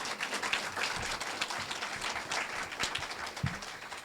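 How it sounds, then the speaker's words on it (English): Quiet, sustained audience applause fills a Reading Is Fundamental 50th anniversary celebration sponsored by State Farm, welcoming a senior vice president onstage, with scattered individual claps standing out from the steady wash. "Round of applause, please"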